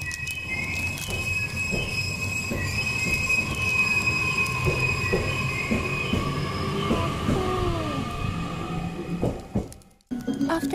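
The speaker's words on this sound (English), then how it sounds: "After the Namahage train," Namahage train in Aomori rolling along the rails, with sustained high wheel squeals and a steady running rumble close by, ending in a brief dip and clunk.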